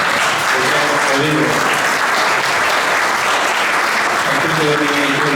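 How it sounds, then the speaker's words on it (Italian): Audience applause at a public event in Italy, a steady dense wash of clapping filling the whole stretch, loud and close, with faint voices mixed underneath. "io farei un applauso a voi, fatelo"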